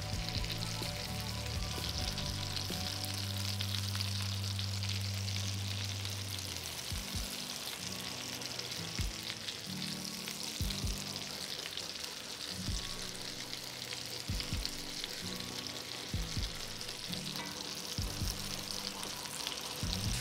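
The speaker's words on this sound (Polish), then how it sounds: "Kotlety są usmażone" Cutlets of leek, carrot and meat fry in a pan with a steady, close sizzle of hot oil. Occasional soft knocks and stirring touches punctuate the sizzle, and no one speaks.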